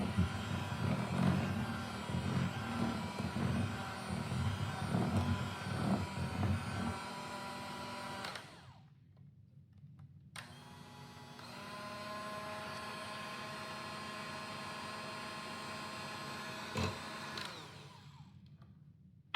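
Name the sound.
electric mixer creaming butter cake batter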